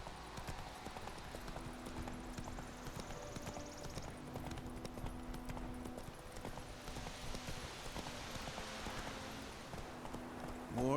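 Roach, a horse in The Witcher 3: Wild Hunt, trots at a steady clip-clop with evenly spaced hoof strikes, moderately close, over quiet ambient background with no talking.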